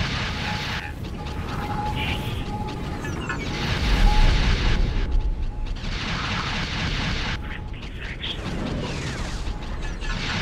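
Light proton torpedoes launched and exploding in the X4: Star Wars space game, with repeated loud whooshing launches and booming blasts layered over a constant dense mechanical engine drone, no talking.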